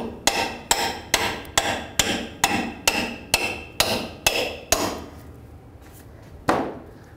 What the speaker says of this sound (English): Get a rubber mallet.